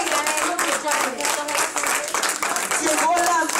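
A church congregation applauds in a dense, continuous clatter of many hands, fairly close and loud, with voices mixed in beneath the clapping.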